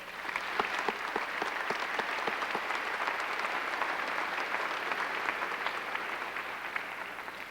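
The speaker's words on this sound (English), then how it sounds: "Please join me in a round of applause." Audience applause at a high school graduation commencement in a large hall, a dense, steady wash of many hands clapping that holds at an even level throughout, with scattered sharper claps standing out near the start.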